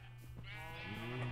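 A sheep in the Minecraft video game gives a short, faint, wavering bleat that rises toward the end of the sound, heard over low background hum with no speech on top.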